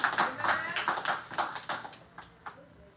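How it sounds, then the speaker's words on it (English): A church congregation claps hands together in a steady, quick rhythm that is fairly loud at first and gradually fades over a few seconds. "Clap your hands for the Lord."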